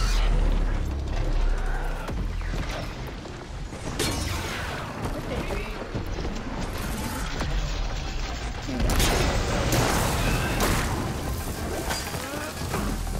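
Heavy, rumbling blasts and crashes from combat in Horizon Forbidden West fill the whole stretch, with repeated booms over a dense, noisy din.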